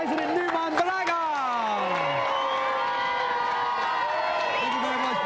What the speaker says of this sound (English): Round of applause for our resident new man, Baraga.